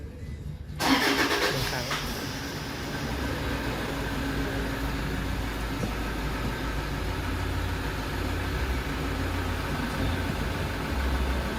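A Toyota Fortuner with an aftermarket push-button start cranks and fires up after a brief quiet moment, then settles into a steady close idle that runs on, with someone talking over it.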